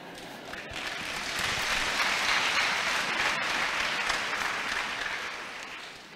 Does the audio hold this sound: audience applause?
yes